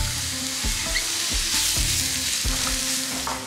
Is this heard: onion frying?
yes